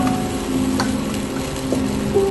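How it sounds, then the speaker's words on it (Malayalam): White pasta sauce seasoned with black pepper, chilli flakes, oregano and salt being stirred in a pan, a steady low sizzle with soft scraping and a faint tonal hum underneath. "ഇനി ഇതും കൂടെ നമുക്ക് നല്ലോണം ഒന്ന് മിക്സ് ചെയ്യാം."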